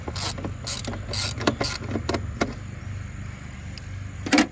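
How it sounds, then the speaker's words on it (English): A ratchet and socket loosen bolts on a Nissan 300ZX, heard as short bursts of close clicking ratchet strokes separated by pauses over a low background hum. "Means I can fit a socket on there and just do some ratcheting."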